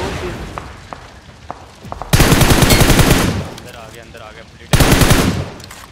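Automatic gunfire in the mobile battle royale game PUBG Mobile: two loud, close bursts of rapid machine-gun fire, the first lasting about a second and a half, the second shorter, after scattered single shots, with a player talking excitedly over it.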